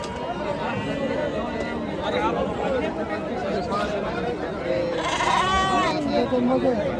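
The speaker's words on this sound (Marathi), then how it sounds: "मेंढ्या बघा मेंढ्या सुद्धा आज बाजारात बऱ्याच आलेले आहेत" Several sheep bleat amid a busy crowd at the large goat and sheep market in Chakan, Maharashtra, their calls rising over steady chatter and a louder burst of bleating near the end.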